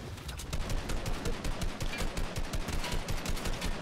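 Rapid automatic gunfire in Fortnite Battle Royale, dense continuous bursts of shots close and loud throughout, no talking.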